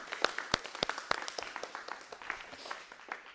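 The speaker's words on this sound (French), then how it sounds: "Je pense que vous pouvez vous applaudir, vraiment." A class of students applauds indoors after a public-speaking exercise, with scattered, moderately loud claps forming an irregular patter that thins out toward the end.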